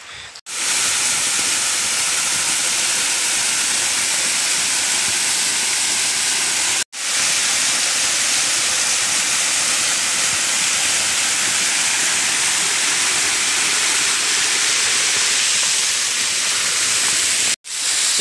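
River water rushing near a small waterfall where small creeks join, a loud constant broadband roar and hiss, close and unbroken apart from two brief cuts.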